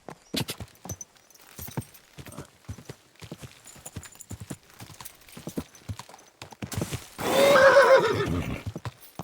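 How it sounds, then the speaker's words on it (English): Horse hooves clip-clop steadily on the ground in the medieval video game Kingdom Come: Deliverance 2, followed near the end by a loud, close neigh. "Time to drive the horse."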